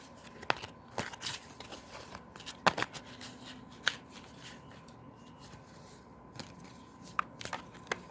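Soft, close rustling and riffling of a tarot deck being mixed by hand, with repeated crisp snaps and papery taps spread irregularly through a quiet room, no voices.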